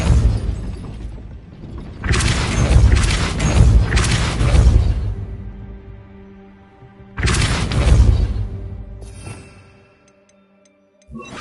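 The Depulso spell effect in Hogwarts Legacy, two loud booming, crashing bursts of a few seconds each with ticking, mechanical clatter fading between them and into quiet at the end, no voices.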